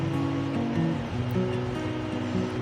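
An electric hand beater whirs steadily through cake batter with milk and oil for a strawberry cake, a continuous close motor hum with a slightly wavering pitch and no pauses.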